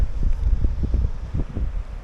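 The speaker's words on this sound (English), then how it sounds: "Little bit windy, not much." Wind at a seaside wild-camping spot on a bikepacking trip blows steadily into the microphone, a continuous low buffeting rumble with gusty fluctuations and no talk.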